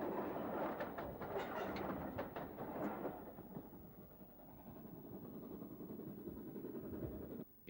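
A steam-hauled train in Kent, 1953, carrying the royal family en route to the Derby, rumbles past with a steady broad roar and rhythmic rail clatter that eases slightly toward the end.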